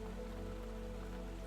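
Steady night rain patters on surfaces outside a pottery studio, a quiet even wash of drops over a low hum, with no voices.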